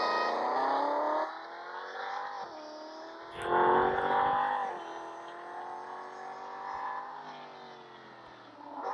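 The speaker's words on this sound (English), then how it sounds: "I'm gonna drive my Camaro." A Chevrolet Camaro in the Real Racing 3 racing game revs and drones steadily, with a brief louder surge in the middle, heard alone with no talk.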